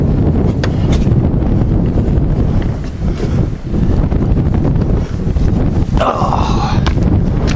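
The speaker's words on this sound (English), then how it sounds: "Kind of windy up today." Wind blows outdoors and buffets the microphone in a loud, continuous roar with slight surges, drowning out other sounds.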